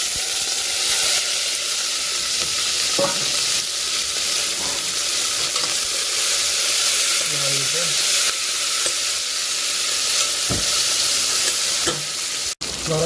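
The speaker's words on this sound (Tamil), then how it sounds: "எண்ணெய் கொதிச்சுது. 2 செத்தல் மிளகாய் போடணும்." Two dried red chillies fry in boiling oil in a home kitchen, a loud, steady crackling sizzle and hiss throughout with occasional stirring knocks and a sharp clack near the end.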